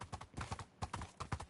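Horse hooves clip-clop in Minecraft, a quick run of regular near taps that falls into two short bursts with a brief gap between them and no talk over it.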